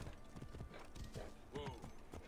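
Hooves of a horse in a video game set on an Egyptian tour clip-clop in a steady rhythm, with a brief whinny partway through and a voice talking over them.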